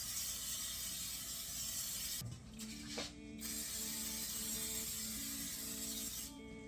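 Canola vegetable oil sprayed onto baking pans for a keto German chocolate cake, heard as a few short hissing bursts over steady kitchen background noise.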